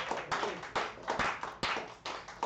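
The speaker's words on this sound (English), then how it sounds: "Let's give a big round of applause for Teddy and Fiona for hosting us." A small audience at a San Francisco cafe open mic claps in short, uneven bursts, close and sparse enough that individual hand claps stand out between brief pauses.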